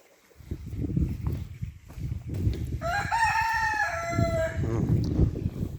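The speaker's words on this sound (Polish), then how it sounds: "Kurki Danusi." Hens cluck and rustle nearby while a rooster lets out one loud, drawn-out crow in the middle, the clucking continuing around it.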